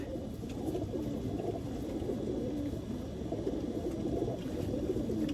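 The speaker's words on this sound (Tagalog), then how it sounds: "Ito ang ating last birds." Racing pigeons coming back from road training, heard as a steady bed of soft cooing and fluttering bird sounds with continuous low background noise.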